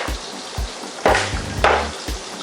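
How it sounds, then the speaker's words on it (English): Butter melting in a pan on the stove while pasta cooks nearby, a soft steady sizzle with a few louder clatters and bumps of cookware. "and I'm still melting butter."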